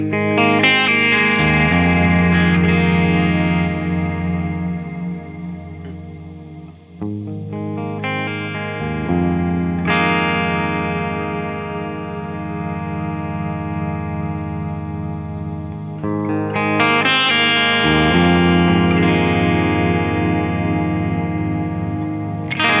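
Electric guitar played through a Line 6 Helix with huge reverb and delay rings out in sustained, shimmering chords that swell and trail into long echoing tails, loud and alone throughout.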